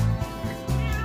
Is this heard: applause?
no